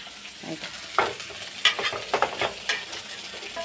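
Onions and potatoes fry in a pan with a soft steady sizzle, broken by several sharp scrapes and clinks of stirring, close by and with no voices.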